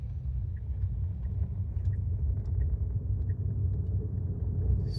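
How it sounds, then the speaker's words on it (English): A 2018 Tesla Model S 75D on a highway near Winnemucca accelerates behind a semi truck, giving a steady low road rumble and tire noise from inside the cabin with no talking. "I'm gonna give you a little bit of acceleration. I don't want to hang out behind this semi."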